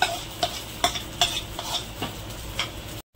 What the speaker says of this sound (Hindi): तो यहाँ पर हम बैटर डाल देते हैं।